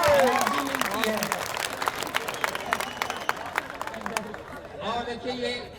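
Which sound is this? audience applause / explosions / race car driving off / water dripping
audience applause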